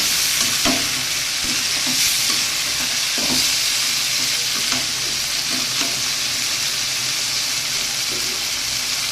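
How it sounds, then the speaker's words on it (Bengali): Long beans, potato and greens fry in a pan with a steady, loud sizzle, while a utensil stirs them in scattered scrapes and knocks throughout. "সবজিটা বারবার ঢাকা দিয়ে আবার ঢাকনা খুলে নেড়ে ফেড়ে সবজিটা ভেজে নিচ্ছি।"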